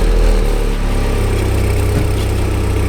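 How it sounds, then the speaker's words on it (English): Volkswagen Golf GTI engine fitted with an APR carbon fiber intake, a steady low idle rumble with a soft airy whoosh, close and fairly quiet, no voices. "that's all the whooshing noises they heard. So it's an APR carbon fiber intake."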